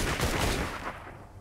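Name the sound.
gunfire in the video game Fortnite: Save The World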